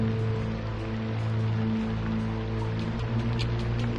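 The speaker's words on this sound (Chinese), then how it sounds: "下雨了。" Rain falls steadily in a fantasy outdoor setting, a soft, even wash of drops over a low, sustained hum, with no talking.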